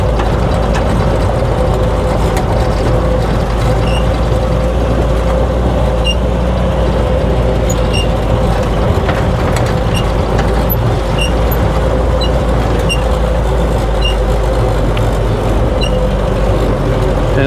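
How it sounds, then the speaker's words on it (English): Vehicle rolling over a big mine tailing pile near a ghost town, steady loud engine drone and rumbling road noise throughout, constant and close, with faint wind and no clear voices. "this is a big old tailing pile that we're driving on right now."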